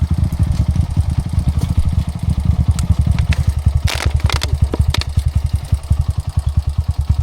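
A motorcycle engine idles close by, chugging in a quick steady rhythm, with a few sharp clicks and rattles over it.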